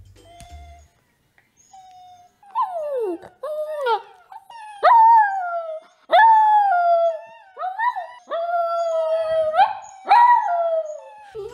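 A played recording of a dog whining sets off a pet dog, which answers with a series of rising, wavering howls, each a few seconds long and loud, repeated close by with short pauses between them.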